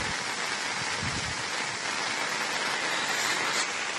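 Floodwater from two days of heavy rain flows across the Napoklu road near the submerged Bhagamandala Triveni Sangama, a continuous broad rushing hiss with no pauses.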